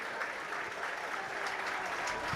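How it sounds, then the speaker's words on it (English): A crowd applauding a school rugby player being substituted at a Leinster Schools Senior Cup match between St Mary's College and Wesley College, a steady, distant round of clapping throughout. "the warm round of applause tells you how well Max has played"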